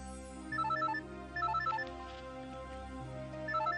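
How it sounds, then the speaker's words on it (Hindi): A phone ringtone plays a repeating melodic chime in short bursts, fairly soft, with no talking. "सिया का फोन है।"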